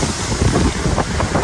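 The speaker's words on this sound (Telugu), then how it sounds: "గాలి చూసారా, విపరీతంగా ఉంది గాలి, టూ మచ్ గాలి" Strong gusting wind buffets the microphone outdoors near a railway station in Guilin, China, producing a loud, rumbling, uneven roar across the whole moment with no speech.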